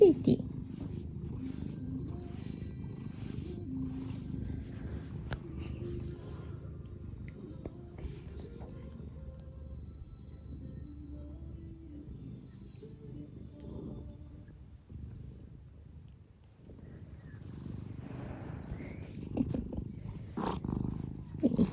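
A cat purrs continuously at close range, a low steady rumble that rises and falls slightly in strength across the whole stretch, with no other clear sounds.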